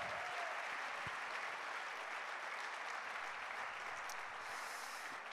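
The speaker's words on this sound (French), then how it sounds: "On peut les applaudir bien fort." An audience applauds under a festival tent, a dense, continuous wash of clapping from a large crowd that holds steady and sounds fairly distant, with no voices over it.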